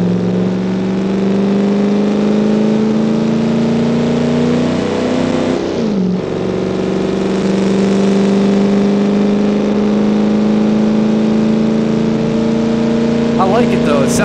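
A classic muscle car engine in the BeamNG driving game drones loud and steady at high revs, with one brief dip and a shift around the middle before climbing again, continuous and close.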